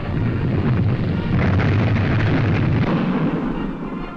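Mortar fire during an infantry advance covered by tanks, heard as a continuous heavy rumble of blasts and booming bursts over wind-buffeted noise.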